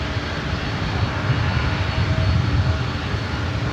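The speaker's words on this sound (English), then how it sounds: "WestJets be taking off here next" WestJet airliner taking off at LAX, a loud, steady broadband jet engine roar that holds constant throughout with a deep low rumble and no talking.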